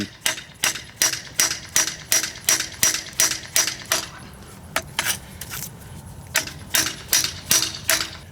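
A hammer taps a coilover part into place on a Honda Integra, sounding as a loud, close, fast run of sharp metallic strikes in steady bursts with a brief lull midway.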